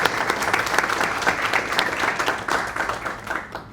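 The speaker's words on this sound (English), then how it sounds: "Let's give him another round of applause." Attendees at a local tech talk give a presenter another round of applause, a close, even burst of many people clapping that tapers slightly at the end.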